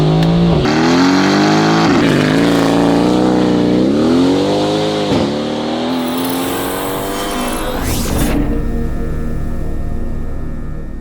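Mercedes-AMG GT Edition 1 fitted with a full titanium valved exhaust and free-flow downpipes, revving hard in repeated loud rising and falling sweeps, then a sharp blip and crackle near the end.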